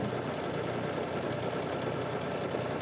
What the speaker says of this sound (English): So now when I start stitching again, I hadn't had to mark my whole fabric.